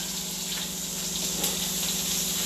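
Water gushes and drains steadily out of cooked pasta lifted in a scoop-and-drain strainer, a continuous close splashing stream with no talk over it.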